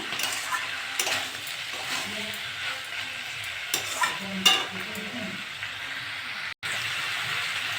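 Potato, beet, carrot, onion greens and other winter vegetables fry and get stirred in a pan, with a constant hiss and sizzle, intermittent spatula scrapes and clinks, and a brief cut near the end, heard close with no talk.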